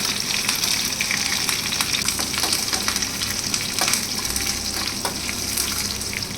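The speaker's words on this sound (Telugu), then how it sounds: "కరివేపాకు ఆడిన తర్వాత ఎండుమిరపకాయలు బాగా వేగిన తర్వాత స్టవ్ బంద్ చేసి పక్కన పెట్టేసుకోవాలండి" Loud, continuous sizzling and crackling of dry red chillies and curry leaves frying in hot oil, with scattered pops and spatters throughout.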